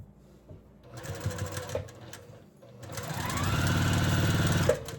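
A sewing machine sews down nested quilt seams, starting with a few brief clunks and stops, then running in a steady, close, rhythmic whir for over a second before halting abruptly.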